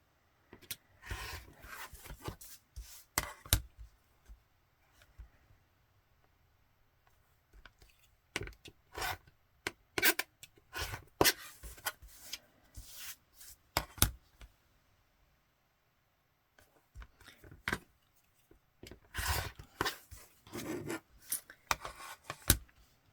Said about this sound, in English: I can cut off these extra bits.